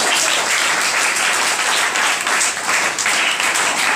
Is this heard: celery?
no